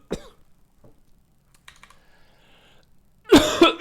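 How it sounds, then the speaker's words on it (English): A burst of harsh coughing near the end, close and loud, after a quiet stretch with a few keyboard clicks and light typing. "the coughing, it never stops"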